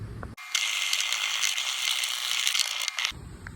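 A powered wire brush scrubs an old aluminum Nissan part in one steady, harsh, hissing burst lasting about two and a half seconds, with quiet before and after.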